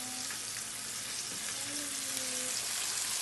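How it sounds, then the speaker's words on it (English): Fish pieces fry in a pan of oil with a steady, dense sizzle that holds at an even level throughout, close and alone with no talking. "I'm going to go ahead and keep putting it in the pan and let it fry"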